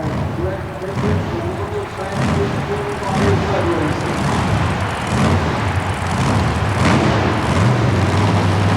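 A 2,000 horsepower Ford Ranger super modified mud racing truck rumbles loudly in an indoor arena at a mud racing event, a heavy engine roar with bursts of revving, heard beneath a commentator talking over the crowd.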